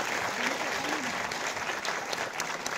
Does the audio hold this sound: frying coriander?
no